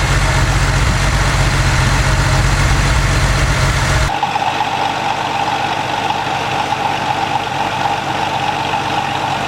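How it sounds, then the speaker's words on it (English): An air-cooled Porsche flat engine idles steadily and close by, a loud low rumble for the first four seconds, after which the deep tone drops away and a softer, steady mechanical hum continues. "You only tend to get that sound from the air-cooled Porsches."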